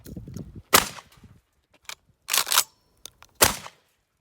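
Rifle shots fired at a metal plate outdoors: three loud, sharp cracks spaced about a second apart, separated by quieter rustling and handling noises.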